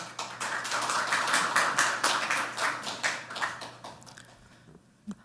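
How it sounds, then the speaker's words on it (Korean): Audience applause at a National Assembly seminar on STO regulation, welcoming the chair of the National Policy Committee to the podium: a dense patter of many hands that swells, holds steady, then thins and fades near the end. "따뜻한 박수로 모시겠습니다."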